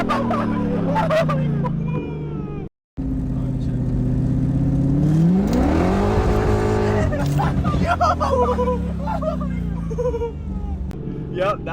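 An E30 with a swapped-in M60 V8 is given gas on a flat stretch during its first test drive. The engine climbs to a loud, rising rev and the tires spin, with excited voices talking over it and a brief dropout in the sound.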